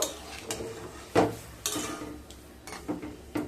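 Boiled lentils (dal) are stirred in a cooking pot with a utensil, giving a series of separate clinks and scrapes against the metal and soft wet mixing noise between them.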